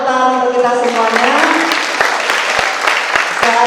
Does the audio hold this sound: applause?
yes